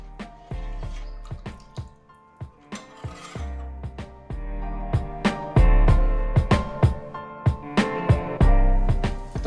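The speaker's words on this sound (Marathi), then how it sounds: "उकळी आली कमी गॅसवर आता मी दहा ते पंधरा मिनटं ठेवते" Thinned Marathi green-chilli dal (amti) simmers on low gas, giving a run of distinct popping bubbles and drips at an irregular rhythm, close and fairly loud, with a faint metallic pot ring.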